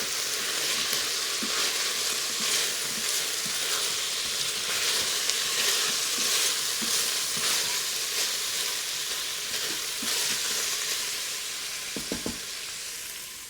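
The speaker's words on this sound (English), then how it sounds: "Let's stir that around." Beef stew ingredients sizzle steadily in an Instant Pot while a spoon stirs them, with a constant loud frying hiss and faint scraping knocks against the pot, and no talking.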